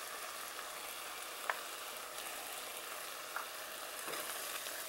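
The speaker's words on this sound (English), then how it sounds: "Mix it together." A sauce with honey stirred in a frying pan: steady close sizzling and hiss throughout, with a few faint scrapes and taps of the utensil against the pan.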